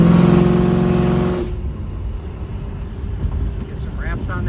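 A 1977 Chevrolet Camaro's engine runs loud and steady at first with a strong low hum, then drops to a quieter rumble with road noise as she keeps driving.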